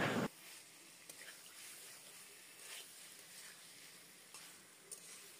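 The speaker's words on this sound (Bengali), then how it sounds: "এবার আলুটাও খুব ভালো মতো মশলার সাথে ভাজা হয়ে গেলে দিয়ে দিতে হবে ভেজে রাখা ডিম" Potatoes fry with spices in a pan, giving a faint, steady sizzle with a few soft stirring scrapes and no one talking.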